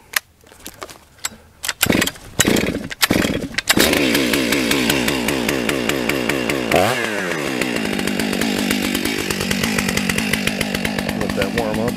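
Stihl-style 661 chainsaw felling a cedar tree outdoors, starting with a few sharp pulls and sputters, then roaring loud and close with a steady high-pitched whine that bogs and rises as the bar cuts through the wood.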